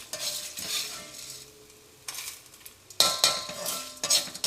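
Spice mixture for Kerala sambar being stirred in a pan after the heat is turned off: intermittent bursts of dry scraping and rustling, with short clinks of a spoon against the metal and quiet pauses between strokes.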